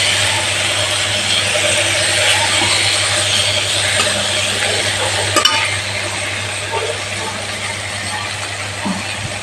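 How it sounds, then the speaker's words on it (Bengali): Steady loud sizzling and bubbling as water goes into a frying fish and brinjal curry, a continuous close roar with a brief clink midway and a low hum beneath. "তারপরে আমি জলটা দিয়ে দিচ্ছি"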